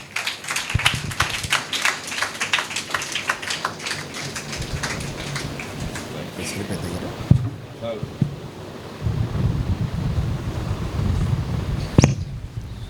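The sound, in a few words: audience clapping to welcome pastor Yona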